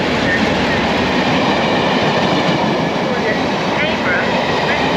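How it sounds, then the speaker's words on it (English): A Transpennine Express train of three coaches stands at a station platform, producing a loud, continuous broadband rumble and hiss of rail noise that holds steady throughout. "This train has 3 coaches, first class accommodation."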